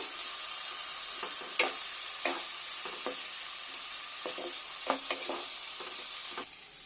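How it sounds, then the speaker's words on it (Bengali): Dal with red amaranth greens sizzling in a pan, a steady hiss broken by irregular spatula scrapes and taps as the mixture is stirred, close by with no talk. "নেড়ে নেব।"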